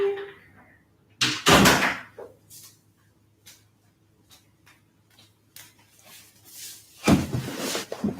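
A house door opens and shuts to let a cat outside, giving a few loud thumps and clatters separated by quiet ticking and soft handling noises, close by, with no one talking.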